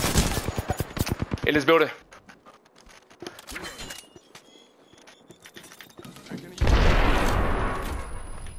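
Gunfire in Apex Legends: a rapid burst of close shots opens, followed by scattered fainter shots and game sounds, then a loud rushing blast of noise near the end, with players talking over it.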